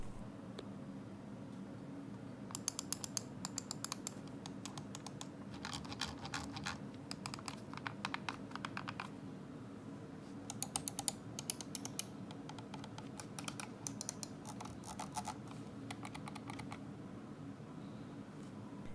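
Faint, rapid clicking in scattered bursts over a steady low hum, from the mechanical-switch buttons of Razer Basilisk X Hyperspeed and Atheris wireless mice pressed repeatedly nearby.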